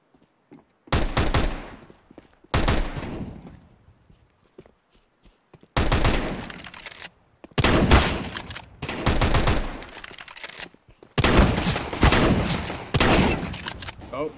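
Automatic gunfire in the CS:GO Danger Zone battle royale mode comes in five long, loud bursts with short quiet gaps between them, close and harsh, with a few faint thuds in the pauses.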